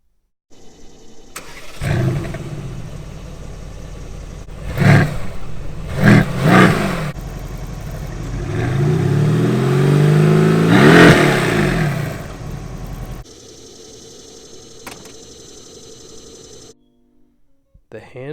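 Hand-built 4-liter V8 of a 2020 Mercedes-AMG GT C starting and revving, loud bursts of throttle blips followed by a longer swelling rev, close by, with music or voice faintly around it.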